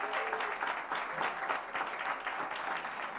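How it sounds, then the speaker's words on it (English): An audience applauds a university system chair at a higher-education event, a steady, dense clapping that holds at an even level for the whole stretch, with no voices over it. "Please join me in giving Chair Clark a round of applause."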